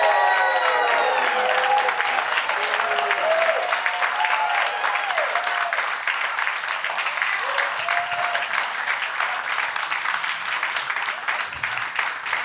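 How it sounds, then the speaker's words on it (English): A live studio audience applauds Tucker Carlson with sustained, dense clapping and a few cheers. The clapping stays loud for the whole stretch and fades only slightly toward the end. "Let's give a hand for Tucker Carlson is here,"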